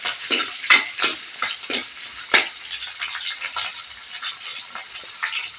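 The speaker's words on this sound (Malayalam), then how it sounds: "നമുക്ക് ഈ അരിഞ്ഞ് വെച്ചേക്കുന്ന ഉള്ളി അതിനകത്തോട്ട് ഒന്ന് വഴറ്റിയെടുക്കാം." Chopped onions sautéing in a pan for Kerala-style onion curry over low flame, with green chillies, stirred with a spoon: steady close sizzle broken by several sharp utensil scrapes and taps against the pan.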